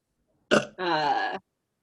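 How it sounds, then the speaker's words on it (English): During a casual podcast recording, someone lets out a single short, voiced burp. It is close and loud, opening with an abrupt burst and ending cleanly. "You like you were leaning into that burp."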